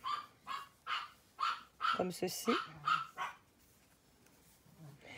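Several dogs bark in quick repeated bursts and squabble with one another at close range, with a few sharper yips in the middle, while a person talks over and between the barks.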